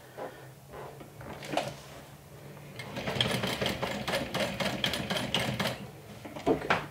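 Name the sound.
sewing machine back stitching a bag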